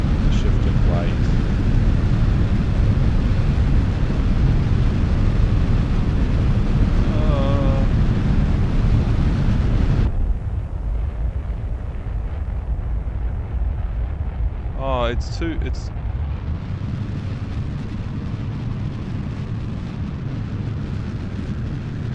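Rocket engines roar in Kerbal Space Program with a loud, dense, steady rumble that drops to a quieter, thinner roar partway through, while someone talks over it.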